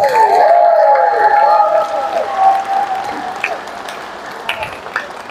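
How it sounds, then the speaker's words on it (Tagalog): A church congregation claps with raised hands, a dense crowd applause that fades gradually as a voice speaks over it at the start. "nakataas ang kamay na pumapalakpak sa Panginoon"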